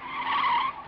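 A vehicle brakes hard to a stop with tyres skidding, a single loud, high screech lasting under a second that fades at the end.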